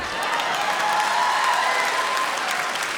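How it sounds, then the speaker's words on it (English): Audience applause at a stand-up comedy show, a dense, steady wash of many hands clapping from a crowd, sustained and fairly loud throughout without a break. "that's the Asian women clapping for that"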